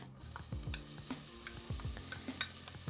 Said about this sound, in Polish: podsmażam seler i cebulę. Gdy się zeszklą, dodaję imbir.